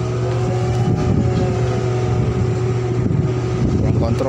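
Machinery in a ship's engine room runs loudly and continuously, a steady low hum with strong tonal drones and a rough mechanical rumble, unbroken across the whole stretch.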